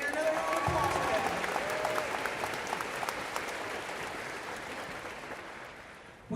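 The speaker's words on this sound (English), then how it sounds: "Can I get another round of applause for them?" Audience applause fills a luau event in an arena, a dense steady wash of clapping that carries on for several seconds and gradually thins out toward the end.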